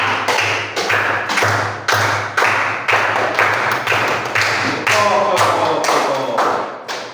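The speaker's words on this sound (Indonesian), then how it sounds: "Oke, tepuk tangan untuk kita semua." Children clap their hands in a classroom, a series of loud rhythmic bursts of patterned clapping repeating across the whole stretch, with a low hum beneath.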